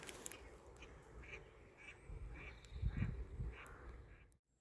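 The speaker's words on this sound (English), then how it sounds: "Happy little ducky ducks." Ducks quacking at a village pond in the countryside, a few hoarse quacks in short bursts heard outdoors at moderate distance over a low background rumble, ending abruptly.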